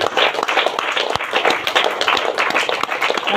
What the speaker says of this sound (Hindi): बार बार सब लोग ताली बजा रहे हैं